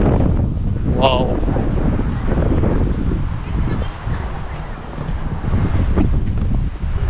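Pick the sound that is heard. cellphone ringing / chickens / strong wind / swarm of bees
strong wind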